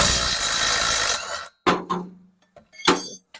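A power tool works a 19mm bolt on the driveline of a 25-year-old Mercedes S-Class: a loud continuous whir for over a second, then silence, followed by short separate bursts of impact and rattling.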